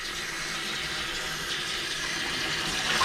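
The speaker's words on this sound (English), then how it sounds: "Now, you're running this underwater because there's a lot of crap in it." Rice is rinsed under a running kitchen tap, the water making a steady broadband splashing rush that swells slightly toward the end, with no voices.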